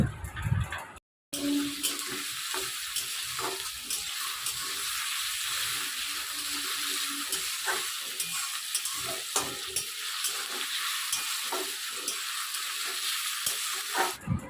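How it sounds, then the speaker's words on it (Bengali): Chopped onion sautéing in a pan for a chilli chicken dish, a steady close sizzle running throughout with scattered clicks and scrapes of stirring and a brief break near the start. "এই পেঁয়াজটা দিয়ে এবার আমি এটাকে খুব ভালো করে একটু কষিয়ে নেব"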